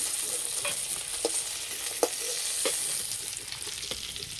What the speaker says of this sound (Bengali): তেল কাটাটা একটু ভেজে নেব